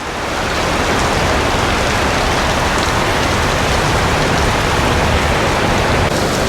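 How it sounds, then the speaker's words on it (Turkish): Heavy tropical rain pours down in Malaysia, a dense, loud, continuous hiss of drops hitting surfaces that stays steady throughout with no talk. "Yağmur yağıyor."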